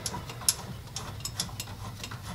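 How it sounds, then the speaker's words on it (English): Rapid clicking of a ratchet wrench tightening brake caliper bracket bolts on a rear Nissan Altima brake, a quick even series of close ticks over a low background hum. "tighten them both up pretty evenly"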